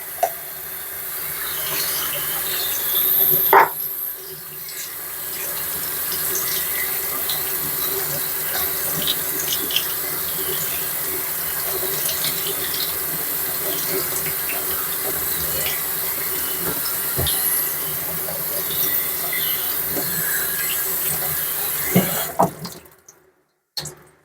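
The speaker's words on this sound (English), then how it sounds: "So I decided to do some of the pinto beans in there, and I'm going to give them a rinse." Canned pinto beans being rinsed under a running kitchen tap, a steady loud gush of water splashing into the sink for about twenty seconds before it is shut off, with no voice over it.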